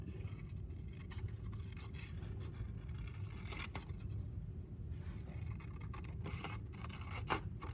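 Scissors cut out a colored paper pot shape, quiet repeated snips and faint paper scraping at close range over low background rumble, with no talking.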